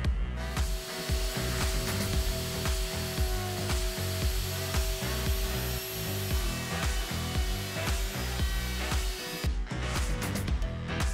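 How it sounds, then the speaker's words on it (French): A router mills three semi-circular grooves into wooden slats for a dressing build, its steady loud whine running continuously with rhythmic cutting bursts, then cutting off near the end. "Nous allons de nouveau fraiser pour plus de détails. 3 rainures semi-circulaires cette fois."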